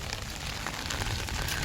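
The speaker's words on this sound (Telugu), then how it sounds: "సో ఎస్, వర్షం అయితే పడుతుంది." Steady rain falls outdoors near a college campus pond, a constant, dense hiss of drops on surfaces that holds evenly throughout without voices.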